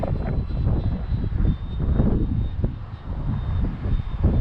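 An Avios Grand Tundra Plus, a 1700 mm EPO electric sports model airplane, drones overhead in flight on its maiden outing, a steady propeller whine that rises and falls slightly in gusty wind, with no one speaking.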